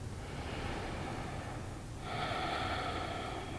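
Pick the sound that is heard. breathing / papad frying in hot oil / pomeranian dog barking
breathing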